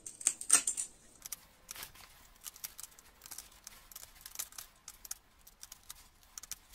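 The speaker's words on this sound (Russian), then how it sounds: "Берем ножницы по металлу и начинаем резать." Sharp metallic snips and crunchy cuts from metal shears cutting an old cutting disc into triangles come in irregular bursts, close and fairly quiet, with a few louder clips near the start.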